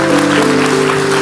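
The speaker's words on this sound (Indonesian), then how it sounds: "Bapak-bapak kasih tepuk tangan untuk mereka" Brief burst of applause from a church congregation during a sermon, broadband clapping over a steady tonal hum, loud and close throughout.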